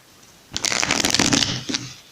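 A deck of tarot cards is riffled and shuffled close up, a loud papery flutter lasting about a second and a half with no talking.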